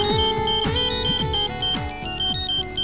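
A mobile phone ringtone plays a repeating electronic melody, loud and close, cycling through its pattern several times with no voices.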